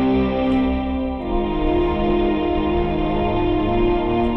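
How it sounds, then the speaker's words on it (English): A sustained, shimmering instrumental tone washed in lush convolution reverb in EastWest PLAY 5, notes ringing and blending into a long, spacious tail. "we start adding in things like a good convolution reverb"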